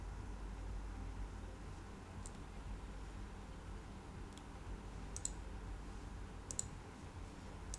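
Computer mouse clicking while sketching in SolidWorks, a handful of sharp faint clicks scattered over a steady quiet hiss, with small pairs of clicks near the end and no talking.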